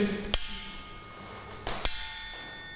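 Two sharp metallic strikes on a sword blade, each followed by a dull, short ringing tone that fades over a second or so, with quiet pauses between.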